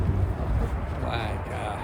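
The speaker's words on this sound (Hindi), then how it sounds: "और हवा इतनी तेज़ है कि बहुत तेज़ है।" Strong wind gusts through Winnipeg's first snowstorm of the season, a loud, continuous low roar buffeting the microphone up close, steady for the whole stretch without a break.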